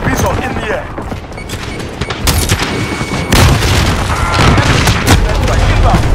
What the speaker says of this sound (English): friendly white phosphorus inbound